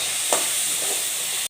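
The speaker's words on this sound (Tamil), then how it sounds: "சின்ன வெங்காயத்தை கலந்துக்கலாம்." Small shallots stirred and frying in a pan for a Tamil chicken and mutton dish, a steady close sizzle with a brief scrape of stirring near the start, no talking.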